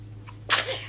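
A small boy who may be getting sick gives a single sharp sneeze, a brief faint intake followed by a loud burst close to the microphone.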